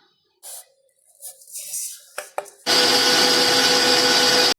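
An electric mixer beats rava cake batter for a Christmas fruit cake, a loud, steady, close whirring drone that starts abruptly after a few seconds of quieter kitchen clatter and runs to the end.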